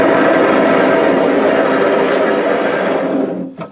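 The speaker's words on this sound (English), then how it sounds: "Lids on, into the seamer." A can seamer spins steadily as its rollers fold and seal lids onto freshly filled cans, a loud continuous mechanical whir that runs unbroken before winding down and cutting off at the end.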